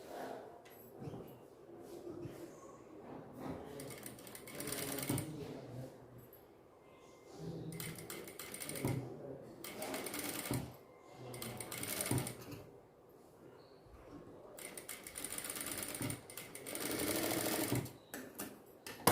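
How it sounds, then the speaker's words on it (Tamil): A sewing machine stitches the neckline of a miniature handmade doll dress, running in several separate bursts of whirring with quiet pauses in between, fairly close and with no talking. "அடுத்து நெக்லைன் வந்து தைச்சிடலாம்"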